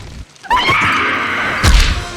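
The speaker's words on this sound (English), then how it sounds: "a raggedy old goblin, complete with a stock scream sound effect and all" A stock scream sound effect from the 2002 Spider-Man film, loud and harsh, sustained for about a second and a half, then cut off by a heavy thud and crash.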